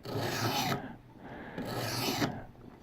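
A knife gets cleanup strokes on a coarse-grit sharpening stone, two long rasping scrapes, each under a second with a short pause between, close and clear with no talking.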